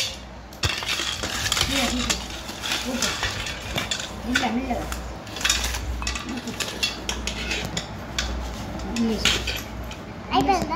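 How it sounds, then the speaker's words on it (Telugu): Roasted peanuts shaken in a metal sieve to knock off their husks, giving a steady rattling, clinking patter at close range, with voices talking over it throughout. "ఇట్లా ఒక జాలీలో తీసుకొని ఇట్లా ఏమంటారు పల్లీలను చేసుకొని ఊపితే పొట్టు పోతుంది"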